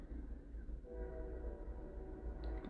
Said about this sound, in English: there's another train going by